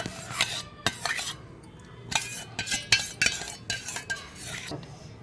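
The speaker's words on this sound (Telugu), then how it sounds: "ఇట్లా గడ్డలు లేకుండా మంచిగా కలుపుకోవాలి స్మూత్గా" A spoon stirs a smooth, lump-free bread sweet mixture flavored with cardamom powder, clinking against the bowl in uneven, close bursts of scraping and tapping.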